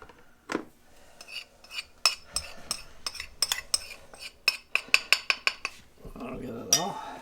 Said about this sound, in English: So I gotta mix it all up.